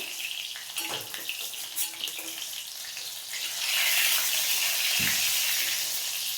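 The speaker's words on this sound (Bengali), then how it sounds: "দেখো বন্ধুরা অনেকগুলোই আমার ভাজা হয়ে গেছে এইগুলো তুলে নেবো" Mushroom pakoras frying in hot oil make a steady bubbling sizzle that swells louder midway, with a few clinks and scrapes as pieces are lifted out.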